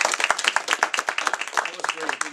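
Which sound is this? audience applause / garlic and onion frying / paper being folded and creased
audience applause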